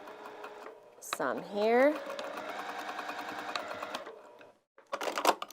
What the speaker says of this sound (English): I'm going to go ahead and sew this.